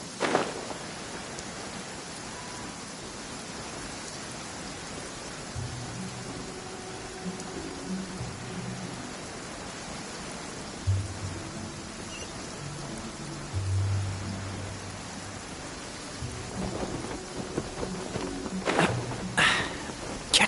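Rain pours down in the video game Genshin Impact, a steady hiss lasting the whole time, with soft footsteps, low musical tones and a few sharper bursts near the end.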